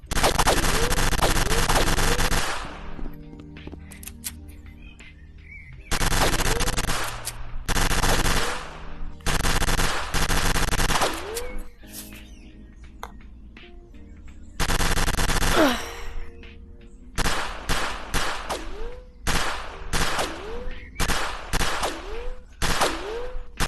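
Guns fire at a shooting range in the VR game Rec Room, in loud rapid bursts like a machine gun and in single shots. The bursts are separated by short pauses, and there are faint breaths and gasps between them.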